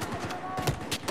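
An F2000 rifle fires in bursts in the video game Battlefield 4, a quick cluster of punchy gunshot reports within about a second.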